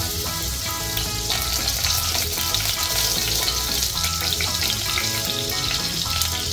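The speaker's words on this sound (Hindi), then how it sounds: "अब मैं इसमें थोड़ा सा बटर डालूंगा और साथ ही में थोड़ा सा रिफाइंड ऑयल" Butter and refined oil sizzle loudly and steadily in a hot pan, a dense, continuous crackle heard close with no pauses and no talking.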